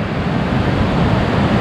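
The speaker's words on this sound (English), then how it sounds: "Listen to the force of that water." Mountain river water roaring down high in the mountains beside a muddy road, heard as a steady, loud, broadband rush with no pauses and no talk.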